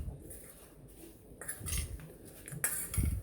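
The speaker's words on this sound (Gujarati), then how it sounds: "તો આવી રીતે થોડું થોડું અંદર સ્પ્રિંકલ કરી દઈશું અને મિક્સ કરી દઈશું." Spices being sprinkled and stirred into masala corn in a bowl, giving light scraping and clinking of a spoon in irregular bursts, close and fairly soft, with no talking.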